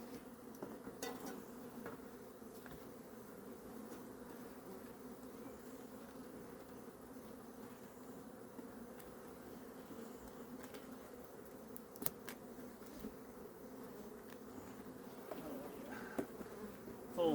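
Honey bees hum steadily from an open hive during a mid-October colony inspection, a dense continuous buzz that holds close and even throughout, with no talk over it.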